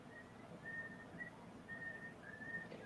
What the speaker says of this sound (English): So this whistling tune was in Hostel as well.